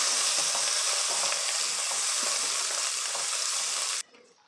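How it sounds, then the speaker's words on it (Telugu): A tomato curry base with turmeric and ginger is stirred in a hot pan, giving a loud, continuous frying sizzle with soft scraping strokes. It cuts off abruptly near the end, leaving quiet room tone. "అలాగే కొద్దిగా అల్లం వేసుకున్న తర్వాత మొత్తం కలిసేలా బాగా కలుపుకోవాలి."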